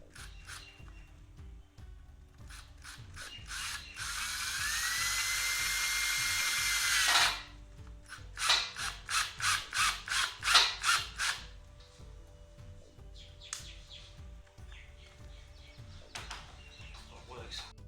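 A power driver driving screws into a homemade R2-D2 dome: a sustained whirring run of about three seconds, then a rapid string of short, punchy bursts, then a few faint clicks and light handling noises nearby.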